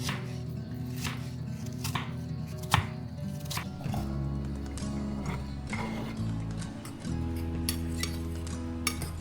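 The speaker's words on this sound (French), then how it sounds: "je vais couper toutes les pommes qu'il me reste en petites lamelles" A knife slices apples into thin pieces against a cutting board in sharp, irregular strokes, close up, with no talking.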